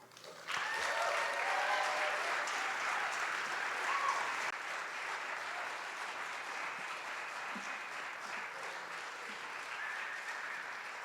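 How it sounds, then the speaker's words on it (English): An audience at an evening event applauds together, a sustained wash of clapping that starts suddenly, stays full for several seconds, then eases slightly but continues steadily to the end. "Give yourself a round of applause for just being here for tonight's Vignettes of Veiled Light"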